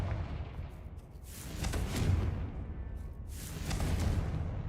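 Confringo fire spells explode in Hogwarts Legacy, two broad whooshing blasts swelling and fading one after another, with rumbling booms and no talking.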